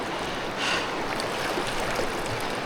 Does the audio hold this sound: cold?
yes